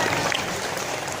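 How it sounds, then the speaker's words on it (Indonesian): An audience at an Islamic boarding school tabligh akbar claps together, a steady wash of many hands sounding fairly distant and moderately loud, with no voices over it. "Tepuk tangan itu gunanya untuk menghilangkan ngantuk"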